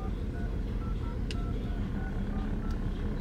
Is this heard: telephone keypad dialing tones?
yes